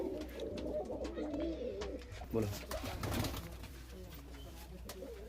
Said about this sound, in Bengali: এই ছোট ঘর হতে পারে কিন্তু প্রচুর পায়রা আছে